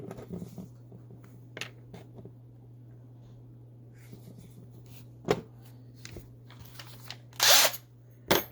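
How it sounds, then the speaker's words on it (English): A small drill boring a post hole into a Matchbox No. 36 Opel Diplomat die-cast model car gives a low, steady motor hum with a few sharp clicks and taps scattered through it, recorded close and fairly quiet. "And then drill a post right there."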